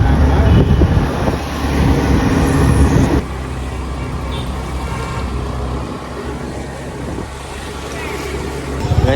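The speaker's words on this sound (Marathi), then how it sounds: "ये देखो रिक्षा पर बैठा हूँ मैं" Auto rickshaw ride through busy traffic, its engine rumble and road noise loud and constant from a passenger's seat, with other vehicles passing close by.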